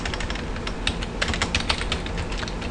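Fingers type a command on a computer keyboard, rapid dense clicking keystrokes in a continuous close run, no voices.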